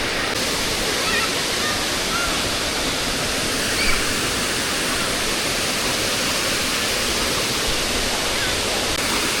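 Rutledge Falls pours in a continuous, full-bodied rush of falling water, loud and close, a steady broadband roar with no breaks and no voices over it.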